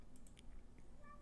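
A cat in a room lets out a couple of short, faint meows, quiet and close, with light household background noise.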